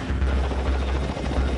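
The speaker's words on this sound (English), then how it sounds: "Helicopters are used in amphibious operations in conjunction with amphibious vehicles and craft." A military helicopter working in amphibious operations thrums close and loud, its rotor beating in a steady low pulse with a rough engine whine over it.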